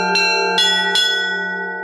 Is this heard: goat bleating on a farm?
no